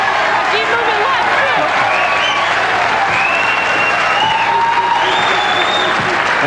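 A bowling crowd in a 1989 pro shootout applauding and cheering a strike in the 10th frame, sustained loud clapping with whoops and shouts.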